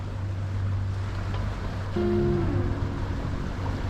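Wind in about 9 to 10 knots of breeze and sea wash around a tiny liveaboard sailboat on passage, a steady rushing roar with a low droning hum and a faint creaking tone midway.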